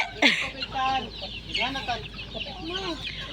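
Native and Red Island chickens on a muddy rural farm cluck repeatedly in a loose, irregular rhythm, several birds calling close by, with faint background noise.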